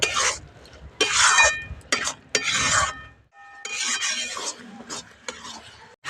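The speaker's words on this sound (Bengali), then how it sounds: "এবার এটা নাড়াচাড়া করে করে একদম শুকনো ঘন করে নেব" Cabbage paste with chilli powder and salt is stirred in a pan to dry and thicken, heard as repeated rasping scrapes of a spoon against metal in short bursts separated by brief pauses.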